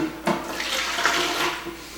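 Two cups of warm water poured into a container for a salt and sugar turkey brine, a steady close splashing stream running for about two seconds.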